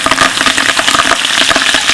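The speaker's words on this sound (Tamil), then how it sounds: "சோம்பு ஒரு 25 கிராம் போட்டுக்கலாம். கருவேப்பிலை போட்டுக்கலாம்." Fennel seeds and curry leaves frying in hot oil in a large pot for cooking at scale, a loud, dense, crackling sizzle that runs steadily throughout with no talk.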